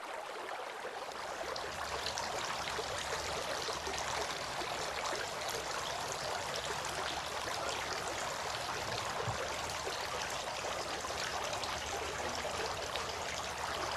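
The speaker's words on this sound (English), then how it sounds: "Washing the feet." Water pours and trickles steadily during ritual washing of the feet for Islamic ablution, a continuous close splashing stream with no pauses.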